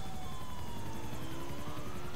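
Police car sirens wail in Grand Theft Auto IV, a steady rising and falling tone held quietly under a low engine rumble throughout, with no voices.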